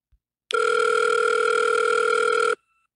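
A telephone in a video game rings with a steady, loud two-tone tone that holds for about two seconds and then stops, with no voices.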